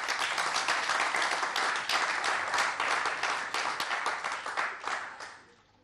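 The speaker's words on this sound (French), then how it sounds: "On applaudit pour vous-même, quand même." Audience in a hall clapping, a dense, lively burst of many hands that stays strong for several seconds, then thins and fades away at the end.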